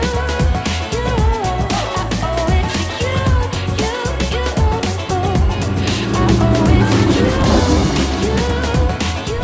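A Nissan R32 GTR engine runs nearby as the car is moved into a detailing bay, a loud continuous motor drone with revving swells over background music, with no clear speech.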